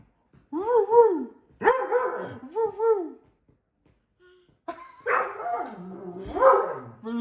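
An excited dog lets out several bursts of high, wavering barks and whimpering yelps, loud and close, with short pauses between clusters before a longer run of vocalizing near the end.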